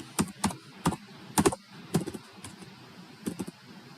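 Commands typed on a computer keyboard while configuring a Cisco switch: irregular bursts of crisp key clicks, close and fairly quiet, with short pauses between clusters of presses.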